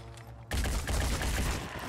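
A sudden, dense burst of rapid gunfire in the turn-based tactics game Phoenix Point, sharp overlapping shots cracking loudly and continuously after a brief quieter lead-in.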